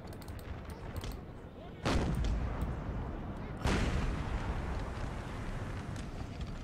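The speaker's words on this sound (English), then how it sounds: "now my artillery gets to get in on the action a little bit" Cannon fire from a simulated American Civil War battle in Napoleon: Total War with the ACW mod, two heavy booms landing a couple of seconds apart over a constant roar of distant musketry and battle noise.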